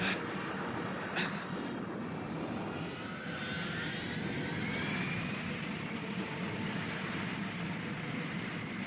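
A cartoon spaceship engine roars continuously at full blast, a dense broadband rumble with a rising whine layered on top, steady and loud throughout.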